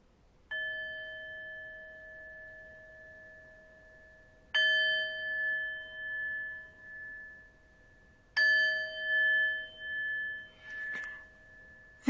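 A meditation bell rings three times at slow, even intervals, each strike a clear bright tone that hangs and fades slowly in a quiet room beside a lake, the final ring mixed with a brief soft rustle.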